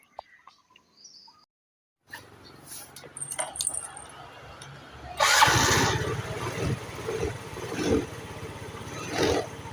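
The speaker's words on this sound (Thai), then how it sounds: "เดี๋ยวเรามาทำการสตาร์ทกันเลยนะครับสำหรับรถ ยามาฮ่าฟิลาโนนะครับคันนี้" A Yamaha Filano scooter with a new battery starts after a quiet pause and a few clicks: a short starter whirr, then the engine catches into a steady idle nearby.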